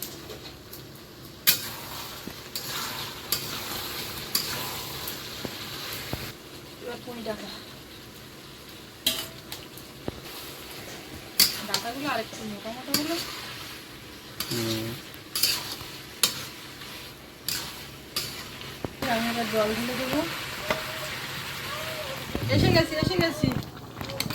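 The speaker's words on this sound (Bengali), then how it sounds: "এখন একটু দেবো গোলমরিচের গোড় ঢাকা দিয়ে দিয়ে কষিয়ে নিচ্ছি" Mourala fish and vegetables such as brinjal and pui greens cook in a covered pan with ground pepper, giving an ongoing sizzle broken by stirring scrapes and utensil clinks, with a person talking at times over it.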